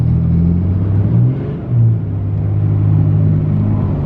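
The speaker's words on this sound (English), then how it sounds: "That was the clutch just blatantly slipping. No contact being made at all." A Ram truck with a slipping clutch accelerates, its engine droning in a loud, steady low rumble with a brief surge and dip in revs, heard from inside the cab.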